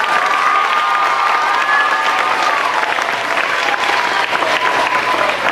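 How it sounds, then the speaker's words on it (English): An elementary school audience at a Peter Pan Jr. production applauds the costume manager, a loud, sustained burst of clapping with cheering and children's shouts mixed in. "So one more round of applause for Mrs."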